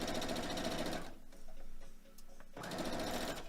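A sewing machine stitches quilt blocks in two loud, rapid bursts of steady whirring, separated by a quieter pause of about a second and a half.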